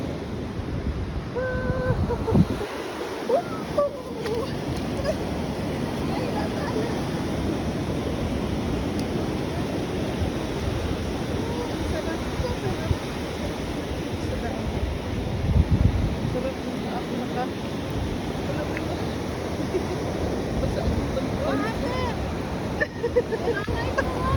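Ocean waves washing onto a beach while someone walks on the sand, a steady broad wash of surf with wind buffeting the microphone throughout, and people talk briefly near the start.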